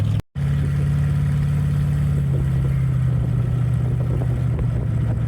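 An old junk car's engine drones steadily while driving, a loud low hum with a brief dropout near the start, then continuous rumble throughout.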